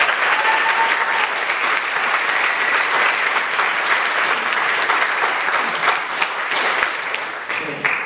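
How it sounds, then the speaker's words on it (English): Attendees at an impact investing forum giving a big round of applause to the event's organizers, a long, even wash of crowd clapping that holds steady throughout, with faint voices mixed in underneath. "I'd love for them to have a big round of applause."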